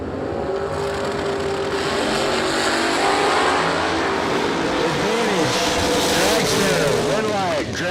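Drag racing engines roar loudly and continuously at a track event, with a dense sustained revving drone, shifting pitches and a commentator's voice mixed beneath the noise.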